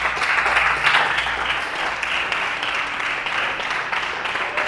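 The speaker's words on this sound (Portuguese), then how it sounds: "Você pode aplaudir o Senhor?" A church congregation applauds in praise, a steady, even wash of many hands clapping together at moderate loudness with no break.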